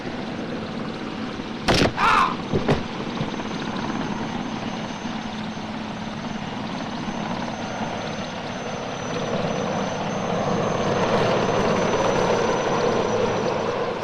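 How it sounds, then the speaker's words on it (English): A steady rotor drone from several approaching helicopters builds gradually louder, with a couple of sharp cracks near the start. "With the sound of the approaching helicopters"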